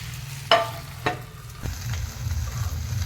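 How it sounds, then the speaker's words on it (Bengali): Chicken for tandoori butter chicken frying with spices in a pan, a steady close sizzle with a few sharp scraping stirs near the start and no talk. "ভাজা হবে সময় লাগবে কুড়ি পঁচিশ মিনিট"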